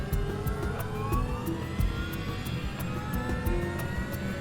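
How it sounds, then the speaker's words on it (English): Jet aircraft engines drone steadily from inside the cockpit as power is run up on the ground, a dense, even roar with rising whine and faint rhythmic ticking throughout. "he records the sound of the engines from inside the cockpit"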